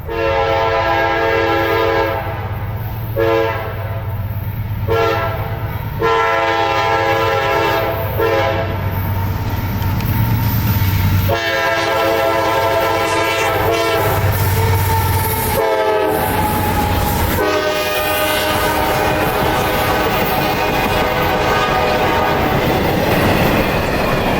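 Freight train IO-25 with an ES-40DC locomotive between two rebuilt units passes at Folkston, sounding repeated loud horn blasts over a steady rumble of engines and rolling wagons, with clattering wheels growing as the horn stops.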